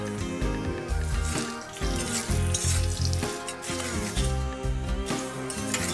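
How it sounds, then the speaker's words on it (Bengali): Carrot and potato fry in mustard oil in a wok, giving a loud, steady, crackling sizzle with bubbling and spattering heard up close, with no voices. "কড়াইয়ে আবারও কিছুটা সর্ষের তেল দিয়ে গাজর আলুটা দিয়ে দেব।"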